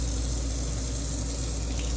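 Water running steadily from the kitchen faucet of a new 2024 Keystone Fuzion 430 fifth wheel toy hauler RV, a constant close hiss and splash with no pauses or talk.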